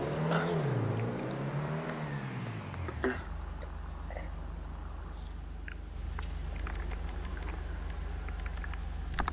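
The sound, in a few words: Obey 10F car engine revving in GTA Online video game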